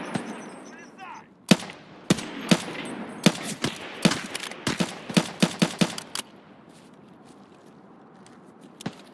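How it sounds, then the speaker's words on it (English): Gunshots in Escape from Tarkov: a rapid string of about a dozen sharp, loud shots in irregular bursts over several seconds, then quieter ambience with faint movement. "I'll shoot him in the leg."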